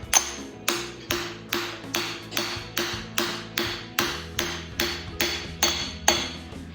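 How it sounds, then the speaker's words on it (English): A 36mm deep well socket is tapped onto a 383 LT1 engine part with a hammer, giving about a dozen evenly spaced, ringing metallic taps, close and clear. "This is a 36mm deep well socket. They don't take but a couple gentle taps. They go right on."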